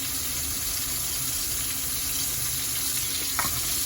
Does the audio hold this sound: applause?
no